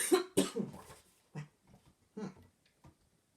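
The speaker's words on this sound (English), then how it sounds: "I have a little cough too" Two quick, sharp coughs up close, followed by a few softer throaty sounds and breaths that trail off into quiet.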